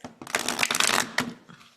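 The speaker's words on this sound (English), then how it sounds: "So now I'm going to show you how I shuffle the cards." A deck of oracle cards is riffle-shuffled close up, giving a rapid flurry of crisp flapping and riffling that runs for about a second, followed by a shorter second burst.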